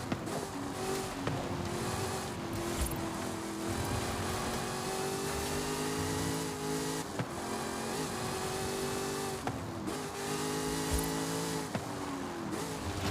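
A rear-wheel-drive Ultima supercar races in Forza Horizon 5, its engine revving hard and steady, rising through gears with brief dips at each shift, loud and close throughout.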